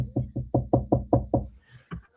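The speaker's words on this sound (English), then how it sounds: "I think your past done walked up and knocked on the door." Seven quick, evenly spaced knocks strike a door in a steady rhythm, followed by a pause and one more isolated knock, close and fairly loud.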